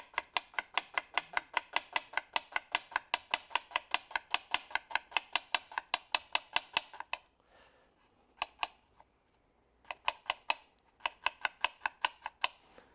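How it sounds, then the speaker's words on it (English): A knife slices thin through a red onion on a cutting board in quick, even, crisp chops, close and clear, pausing briefly midway before resuming in shorter bursts, with no talking. "a beautiful red onion here that I'll slice thin."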